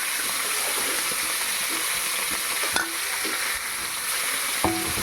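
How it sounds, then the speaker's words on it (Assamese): Fish and greens frying in a pan with stirring, a continuous close hiss of sizzling oil with occasional soft scrapes and knocks of a utensil, and no voices. "এতিয়া অলপ সময় ভাজিব লাগিব।"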